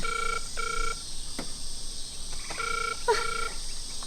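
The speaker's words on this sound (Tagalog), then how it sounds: "agringan ti cellphone na" A cellphone rings with a repeating two-tone electronic pattern, four short ring bursts separated by pauses, steady and clear over a faint hiss in an indoor scene from an Ilocano drama.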